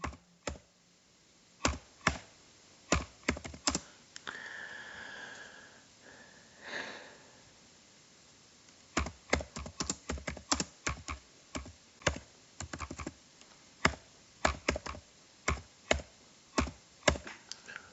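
Keys clack on a computer keyboard in separate bursts of sharp taps, briefly joined by a couple of soft sniffs, then a steady run of fast typing strokes with short pauses between words.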